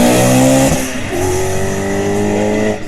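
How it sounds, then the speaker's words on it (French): A BMW race car at the St-Ursanne–Les Rangiers hill climb launches from the start, its engine revving loud and close with a sharp gear change midway, then pulling away steadily with a strong harmonic drone. "Une BMW qui arrive là, qui va partir."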